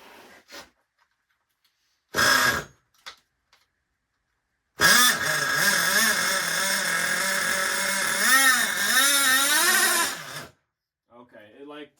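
A seized nitro-powered RC car engine, freed up with penetrating oil, sputters briefly, then revs hard for about six seconds with a wavering, rising and falling pitch before cutting out.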